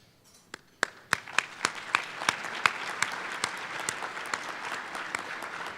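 An audience at an awards breakfast applauds, starting with a few scattered claps that quickly build into a brisk, fairly even round of clapping heard at moderate distance, with sharp individual claps standing out.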